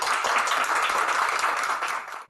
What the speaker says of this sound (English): Could we please get a round of applause for author Paul Tremblay?